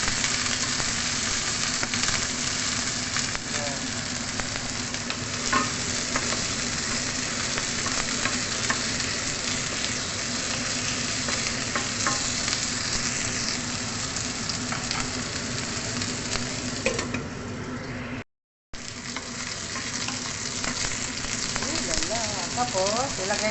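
Chicken pieces fry in oil in a pan with a dense, continuous sizzle and crackle, close and fairly loud, under occasional stirring and a short gap near the end, with no talking.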